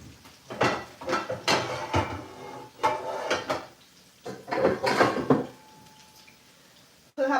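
A pan is lifted out and set down at a home stove, giving a run of clanks, scrapes and knocks of cookware in bursts with short pauses, close and moderately loud.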